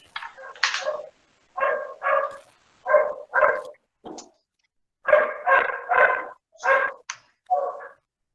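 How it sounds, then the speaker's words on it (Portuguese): A small dog barks repeatedly in short bursts of two or three yips with brief pauses between, fairly close and clear, with no talking. "Tem um cachorrinho latindo."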